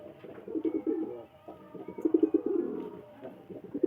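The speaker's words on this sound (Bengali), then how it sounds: "গাইস দুটো কবুতর কিন্তু নিচে এসছে, দেখতে পাচ্ছ তোমরা।" Pigeons coo near the ground, with soft, throaty coos in repeated bursts and short pauses between, fairly close but quiet, and no one speaking.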